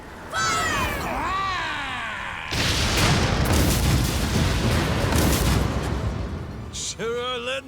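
Ship cannons fire in a sea battle in Like A Dragon: Pirate Yakuza, a loud, sustained volley of booms and crashing blasts following a shouted voice, with another vocal cry near the end.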